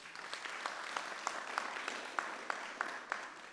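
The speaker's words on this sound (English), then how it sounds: "Please clap for those parents." Scattered, fairly faint clapping from a crowd at a college graduation ceremony, with a few sharper claps standing out in an uneven patter.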